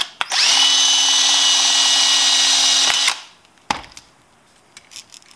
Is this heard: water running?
no